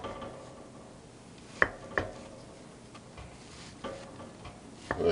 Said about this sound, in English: So I'm going to basically just try and cut a piece out of here.